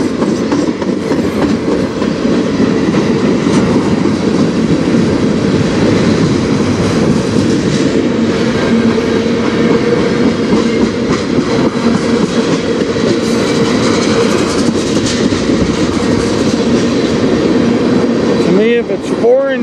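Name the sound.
Kansas City Southern locomotive train passing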